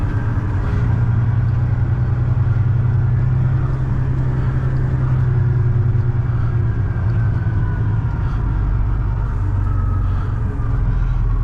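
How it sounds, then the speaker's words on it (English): An old truck engine idling with a steady low rumble and constant mid-frequency hum, close and loud throughout, with no talking. "This old truck, it ain't a bad truck, it's just uncomfortable for me to drive it."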